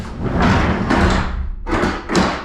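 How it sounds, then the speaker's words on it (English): A Brightdrop Zevo 400 electric van door dragged along and pulled shut by an interior strap, with a couple of heavy, close thuds and rattling bursts of metal. "Inside here, you got a nice strap you can pull to get that door closed"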